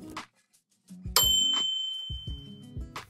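A bright notification bell ding rings once with a long shimmering decay, surrounded by short plucky musical notes, with no talking.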